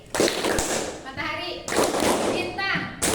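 A classroom of students plays a clapping game, answering called-out words with short bursts of claps, sharp slaps spaced irregularly between a teacher's and children's voices.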